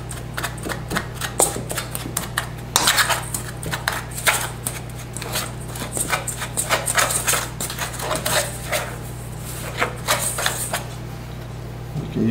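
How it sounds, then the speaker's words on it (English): A fork scrapes and clinks against a bowl while apple crumble ingredients are mixed, producing irregular bursts of tapping and scraping over a low steady hum. "Get your fork and just mix everything."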